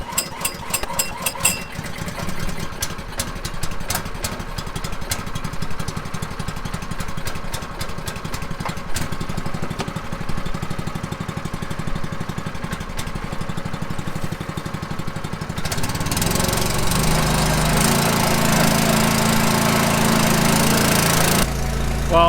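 A small engine runs after a low-oil top-up, idling with a fast, even putter, then revving louder and rougher near the end, steady and close throughout.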